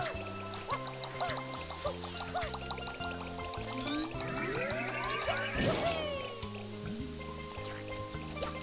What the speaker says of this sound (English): let's get a refill on our water